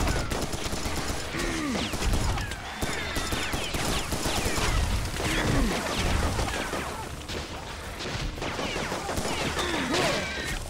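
Gunfire from a scorpion enemy in Serious Sam 3, heard as dense, overlapping bursts of shots and crashing impacts throughout, with game effects layered on top and loud throughout.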